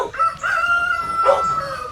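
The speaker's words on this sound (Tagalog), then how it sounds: "ito yung mga manok niya" A rooster crows in a long drawn-out call, with hens, including silkie mixes, clucking close by in a busy farmyard.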